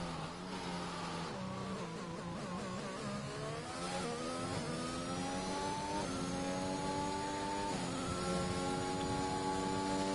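High-pitched F1 car engines screaming around Suzuka in the game F1 2021, several cars revving and shifting through gears at close range, loud and continuous with rising and falling pitch sweeps.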